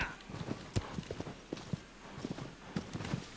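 Horse hooves clip-clop at a walking pace in the video game Shadow of the Colossus, a series of soft, fairly quiet hoofbeats with irregular spacing.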